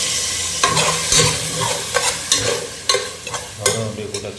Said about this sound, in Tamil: நம்ம இப்போ பீஃப் போட்டுக்கிறோம்